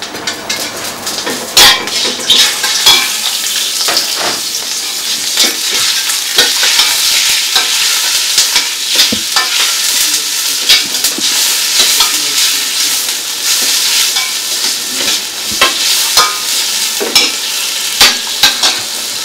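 Boneless diced meat frying in a hot cauldron, a steady loud sizzle with sharp crackles and pops scattered throughout, close by, no voices.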